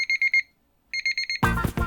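An alarm clock rings in two bursts of rapid electronic beeps, five or six pulses each, with a short gap between them. A loud, dense burst of other noise then cuts in over the end.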